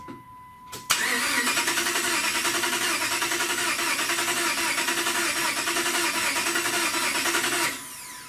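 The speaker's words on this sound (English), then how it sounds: "Give it a crank." A Dodge Ram 1500 pickup with a dead battery recently charged cranks steadily for about seven seconds, a loud continuous starter whir with rapid rhythmic pulsing that never catches and fires, then stops.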